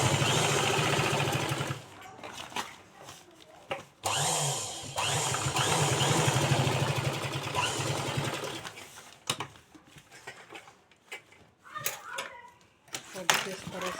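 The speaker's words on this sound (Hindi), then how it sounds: "हम इसमें इसके ऊपर से सिलाई डाल देंगे।" Electric sewing machine stitches a fabric lining onto a handbag made from a plastic sack, running in bursts of steady mechanical whirring with short pauses between runs, close by, with a voice speaking in between.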